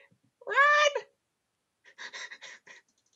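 A cat in the Old School RuneScape video game lets out one clear, drawn-out meow, then a short burst of quieter, choppier sounds after a pause, with no talk over it.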